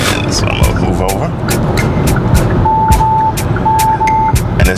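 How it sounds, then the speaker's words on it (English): A Kia EV6's blind-spot warning sounds two short pairs of clear electronic beeps while driving on a highway with a car behind, over steady road noise and someone talking. "it's telling me there's a car behind me, if you heard that beep"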